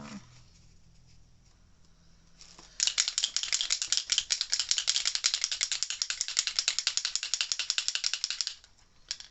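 A can of Kaiser Craft Gold Shimmer spray paint, nearly empty, is shaken briskly, its mixing ball rattling in a fast steady rhythm for several seconds after a quiet start, then stopping.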